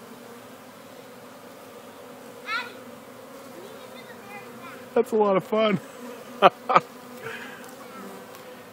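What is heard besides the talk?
honeybees buzzing in a hive box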